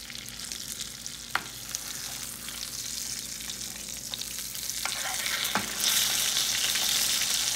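Skin-on salmon fillet frying in a pan after being flipped, a continuous crackling sizzle up close, with a few sharp pops and a brighter hiss rising near the end.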